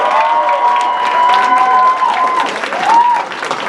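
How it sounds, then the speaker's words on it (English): An audience at the Mr. and Ms. International 2018 pageant breaks into sustained applause mixed with some cheering, with a host's voice or tonal sound running over the clapping. "Give them more applause, come on."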